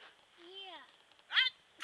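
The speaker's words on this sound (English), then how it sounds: "Mommy sneezing." A woman sneezes at a campground, a short sharp burst near the end of the clip, following a softer whining, squeaky vocal sound.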